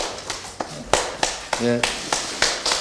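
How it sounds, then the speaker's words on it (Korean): Applause at a Democratic Party supreme council meeting, heard as a loose run of individual hand claps at a steady rhythm, fairly close, with a voice speaking briefly over them. "박수 부탁드립니다."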